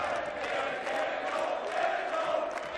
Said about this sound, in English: Crowd are playing their part now.